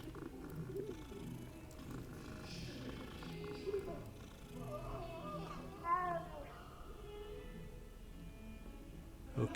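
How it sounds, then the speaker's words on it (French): A cat purrs in Hogwarts Legacy, a soft rumbling purr near the listener mixed with other game sounds and someone talking in French over it. "Il y a un chat là?"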